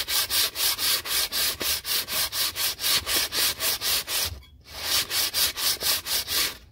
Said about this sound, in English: I'm going to take this 400 grit sandpaper and sand it down